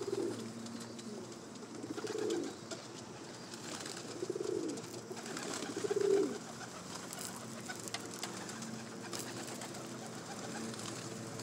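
Racing homer pigeons cooing inside their loft, with several soft, low, rolling coos rising and falling over the next seconds, fairly close against a steady hum of background noise.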